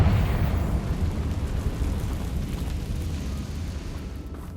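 A spell explosion blasts in the video game Hogwarts Legacy, a heavy low rumbling boom that rolls on and slowly fades over several seconds.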